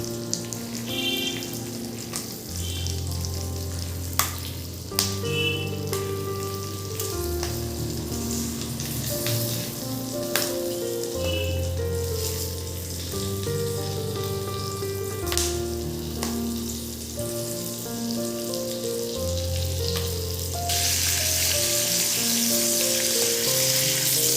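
Stuffed capsicum frying in a pan, a steady, loud crackling sizzle that runs the whole time, with occasional sharp pops and spatters, a low background hum, and a brighter hiss toward the end.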